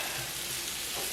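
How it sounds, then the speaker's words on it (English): Potatoes frying in a pan for a backwoods-style breakfast give a steady, close sizzle and crackle that holds evenly throughout, with no talking. "remember our potatoes frying"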